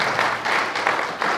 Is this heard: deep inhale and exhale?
no